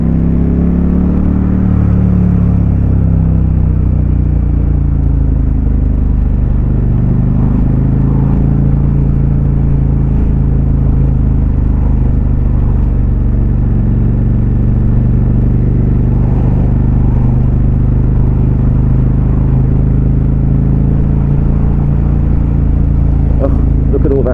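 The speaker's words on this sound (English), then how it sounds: "this is an excellent commuter bike as well" A KTM SuperDuke R motorcycle rides through traffic, its engine a loud, constant low rumble with mild swells in revs, heard close beneath ongoing talk.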